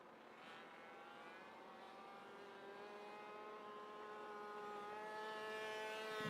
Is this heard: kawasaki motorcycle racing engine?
yes